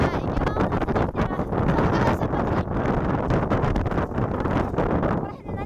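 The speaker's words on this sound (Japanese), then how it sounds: "時期外れの台風が来よってな。" Typhoon wind roars and buffets the microphone in strong, continuous gusts, with voices talking underneath.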